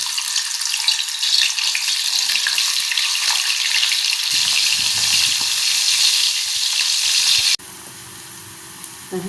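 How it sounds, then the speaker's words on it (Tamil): Dried fish frying in hot oil in a pan, a loud, steady, close hiss of sizzling that runs for several seconds before dropping abruptly to a quieter, lower sizzle. "எண்ணெய் காஞ்சிட்டு இந்த கருவாடை வறுத்துப்போம்"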